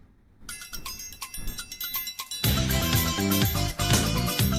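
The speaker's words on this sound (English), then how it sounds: "Palm Tree Panic Present would sound like this" The present-day version of Palm Tree Panic from Animal Crossing plays full-range, with no old-radio filtering. It opens with light, bell-like cowbell taps over a sparse beat, then swells halfway through into a dense, loud island groove.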